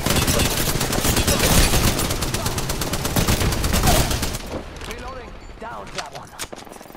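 Rapid bursts of automatic gunfire crackle loud and dense in an online battle-royale video game match, then thin out into scattered shots and softer effects as the firefight fades.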